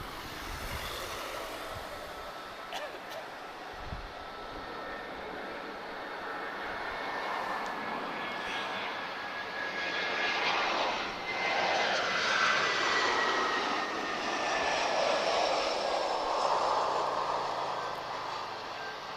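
Airliner in a Smurfs-themed paint scheme at Lisbon Airport, its engines roaring steadily and swelling louder as it passes fairly close, a continuous broad rumble throughout.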